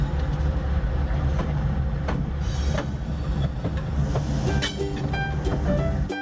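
A toy train rolling along a track, a continuous rumbling clatter up close with small clicks and rattles toward the end, with no voices.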